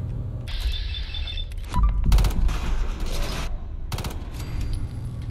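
Mounted guns in Fallout 4 fire rapid bursts of automatic gunfire, loud and close, mixed with mechanical clanks and whirring game sounds.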